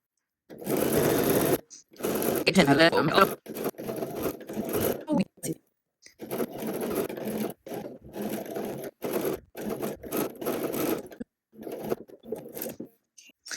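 A sewing machine stitches a straight seam beside the fold of fabric for a Cashmerette Hampden dress bodice, running in several short bursts separated by brief pauses, close and fairly loud.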